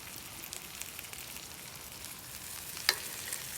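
Oil sizzles steadily in a pan frying a chicken quesadilla with a soft, even crackle, punctuated by one brief sharper pop near the end.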